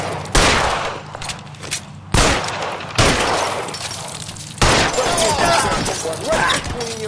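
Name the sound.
gunfire in the video game L.A. Noire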